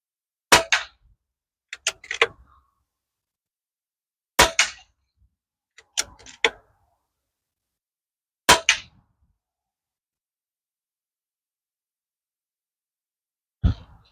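Sharp, isolated shots from a Pinty air rifle strike tin cans outdoors, about six distinct cracks with short metallic ringing, spaced irregularly by several seconds of near silence.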